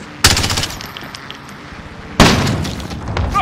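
Gunfire in the video game Call of Duty: Modern Warfare: two loud, close bursts of rapid automatic shots, the first breaking out early and trailing off, the second starting about two seconds later and running on to the end.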